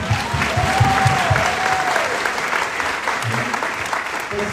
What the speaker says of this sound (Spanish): Felicidades, felicidades, muy bien, aplausos de corazón.